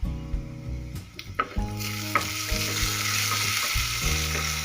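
Cumin and coriander sizzle steadily in hot oil in a pan for lasun chutney, while a spoon stirs with intermittent scraping clinks. A constant, close frying hiss runs throughout, with no voices.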